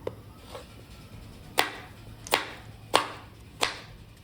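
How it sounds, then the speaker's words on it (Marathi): A knife chopping a tomato finely on a board, with four or five distinct close cuts at a slow, even pace after a couple of softer taps, and no voices. "टोमॅटो पण अगदी बारीक असं चिरून घ्यायचा."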